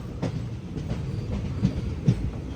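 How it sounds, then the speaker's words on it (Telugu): A train pulls into Punalur Junction on the Kollam–Sengottai line, its steady rumble and rhythmic wheel clacks rolling on close by with no talk. "మన ట్రైన్ అయితే పునలూరు జంక్షన్కి అయితే వచ్చింది"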